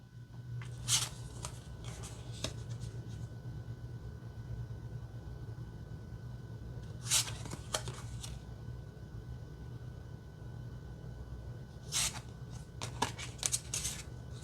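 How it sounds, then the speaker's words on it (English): Tarot cards are shuffled close up in three separate bursts of quick riffling and flicking, separated by quiet stretches over a low steady hum. "I can't wait to shuffle it."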